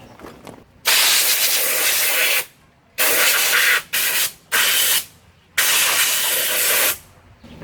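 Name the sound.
compressed air from an air compressor blowing debris off engine head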